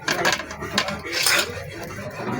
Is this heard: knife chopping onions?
yes